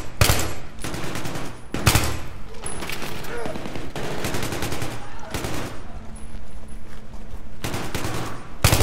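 Rapid burst gunfire from a co-op mission in the video game Battlefield 3, loud and dense, with bursts repeating across the stretch while players talk over the shooting.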